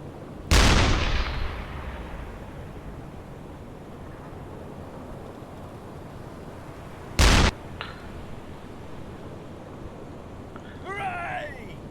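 Submarine deck gun firing in the video game Uboat, two loud booming shots several seconds apart with long rumbling tails over a steady sea and engine wash.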